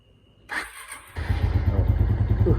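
A Suzuki Shogun underbone motorcycle engine starts up and settles into a steady, low, throbbing idle, close by and fairly loud.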